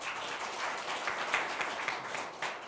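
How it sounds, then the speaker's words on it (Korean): An audience at a policy forum on disaster donation reform breaks into sustained applause, a dense, even wash of many hands clapping at moderate distance. "큰 박수로 맞이해주시기 바랍니다."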